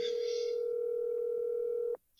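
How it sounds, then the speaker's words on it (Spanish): A telephone tone in Resident Evil 7 holds steady and loud for about two seconds, then cuts off abruptly, followed by a brief moment of near silence. "Estamos haciendo una llamada por teléfono a lo Susana Jiménez"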